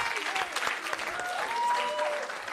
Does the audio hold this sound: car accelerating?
no